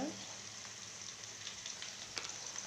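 Tomatoes for gojju fry in a hot pan, making a faint, even sizzle and crackle with a few small pops, heard close and without talk.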